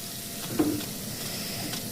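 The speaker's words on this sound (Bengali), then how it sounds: "এই যে তেলটা বার হচ্ছে, দেখো পিঠা থেকে তেলটা বার হচ্ছে। একটা আওয়াজ করছে না, চিপ চিপ চিপ করে।" Hot oil gives off a steady, soft sizzle and hiss as flower pitha fries in a pan, with a faint brief bubbling pop partway through.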